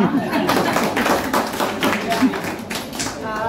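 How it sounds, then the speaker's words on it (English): Participants at a business networking self-introduction session clap briefly for a dietitian, a dense patter of hand claps with a few thuds at steady loudness. "So a clap for her."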